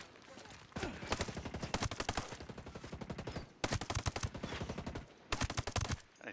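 Bursts of rapid gunfire from the video game Ghost Recon Breakpoint, several automatic volleys separated by short pauses, loud and close, with no talk over them.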